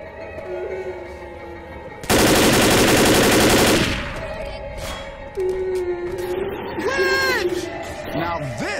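A mounted machine gun in Left 4 Dead fires one loud, sustained burst of about two seconds, followed by game effects and someone talking.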